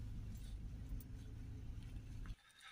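A 2016 Ford Ranger with a faulty ABS wheel speed sensor drives along with a steady low engine and road rumble from inside the cab, cutting off abruptly near the end.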